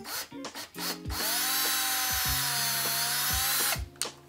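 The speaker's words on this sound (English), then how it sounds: "I need to carefully drill out that hole to fit the jack." A power drill bores a hole through a plastic headphone ear cup for a jack, a steady close whine running for a few seconds, bracketed by short clicks and handling knocks.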